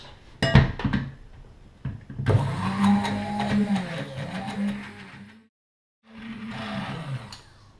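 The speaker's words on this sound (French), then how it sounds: "À présent, on va pouvoir mixer notre ganache." A blender mixes ganache for Tagada-flavoured macarons, roaring loud and steady for several seconds, stopping briefly, then whirring again; short clatters come before it starts.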